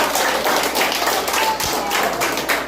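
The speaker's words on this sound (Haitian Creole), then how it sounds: "Je vais demander pour nous applaudir très fort." An audience claps steadily and fairly loudly throughout at a family gathering, a continuous wash of many hands with no break.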